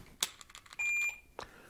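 A shot timer on a shooting range gives a short electronic start beep, sharp and fairly close, followed by a few quick clicks and a brief muffled thump.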